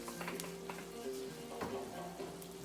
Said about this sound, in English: We get the shrimp cooking.